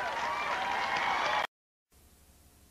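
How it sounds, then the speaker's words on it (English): Audience applause for the mothers at a family game show, a dense wash of clapping for about a second and a half that cuts off abruptly, followed by quieter room noise. "How about a round of applause for all of our moms?"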